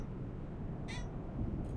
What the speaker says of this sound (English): there goes my cat Avadale again.